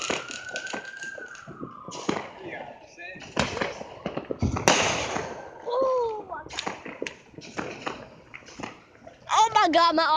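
Street fireworks on Benning Road in D.C. crackle and pop in irregular bursts, some sharp and near, others distant, with people talking throughout and a siren wailing faintly at times.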